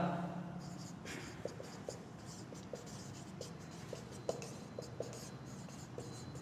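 Pen or chalk strokes tap and scratch in a quick irregular rhythm during a Class 9 Sanskrit lesson, a series of small sharp clicks close by, set against a quiet room.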